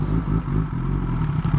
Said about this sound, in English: I can only start the bike in neutral, I guess.